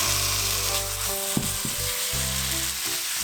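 Meat stir-fries in a pan preheated on high heat, giving a loud, constant close sizzle with a few scraping stirs, no voices.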